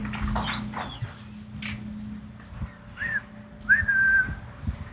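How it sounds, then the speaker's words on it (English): Two short, thin whistled notes sound near the end, the second a bit longer and clearer, over soft background rustling and knocks. "That was the weakest whistle."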